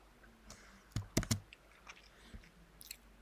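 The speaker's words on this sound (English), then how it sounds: "if there's too loud typing" Keystrokes clatter on a computer keyboard in a quiet room, a sparse, irregular run of soft clicks with a tight cluster of three sharper taps near the middle, fairly close, no voices.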